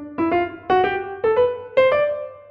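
Bebop-style melodic line on a single pitched instrument, played as four pairs of notes in a clipped, uneven dotted eighth-and-sixteenth rhythm. Each pair is clear and close, with no voices.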